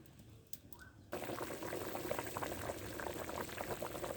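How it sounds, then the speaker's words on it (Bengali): Thin curry broth comes to a rolling boil in a pot, a steady bubbling roar that starts abruptly after a quiet moment and continues loud and close, with no talking. "2 মিনিট অপেক্ষা করব ফুটে ওঠার জন্য।"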